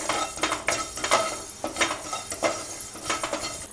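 Coriander seeds, fennel and cumin dry-roasting in a pan, with a spoon scraping and clinking against the metal in a steady stirring rhythm, close and fairly loud, with no voices.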